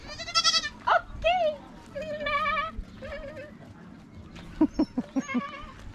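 Goats bleat repeatedly on a farm visited during a sailboat trip in Denmark, loud wavering calls close by in several bursts, with people talking in between.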